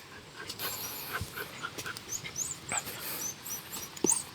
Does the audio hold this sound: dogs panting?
yes